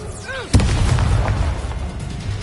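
Expelliarmus spell blast in the video game Hogwarts Legacy: a whooshing rising tone, then a sudden loud boom that rolls on as a dense rumble to the end.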